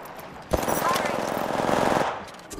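Rapid automatic gunfire in a shooter video game, a sustained burst of close, loud shots lasting about a second and a half, with game sounds around it.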